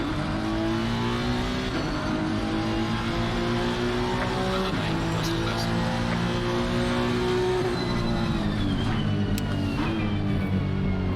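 GT3 race cars at Donington in Assetto Corsa Competizione, loud engine drone with gear shifts and revs rising and falling, close behind a McLaren, with brief tire squeal, steady and continuous throughout.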